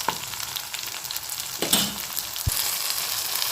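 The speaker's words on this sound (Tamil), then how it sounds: "இப்போ பச்சை மிளகா சேர்த்து நல்லா அந்த வெங்காயத்தோட வதக்கிக்கிட்டேன்" Onions and green chillies hiss and crackle as they sauté in a pan for an okra dish, with a couple of scraping stirs and a light clink; no talking.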